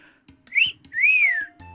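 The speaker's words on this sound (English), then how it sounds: "Sorry, that's a bad whistle." A person whistles two short rising-and-falling notes, the second longer and sweeping, with soft clicks and small noises around them.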